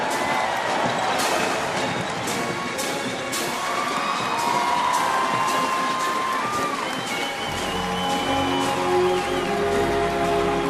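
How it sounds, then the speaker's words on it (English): Large outdoor crowd at an Army parade at Fort Bragg cheering and whooping for the 82nd Airborne Ceremonial Band, a steady dense roar of voices with scattered shouts throughout. "Give them a big round of applause, the 82nd Airborne Ceremonial Band."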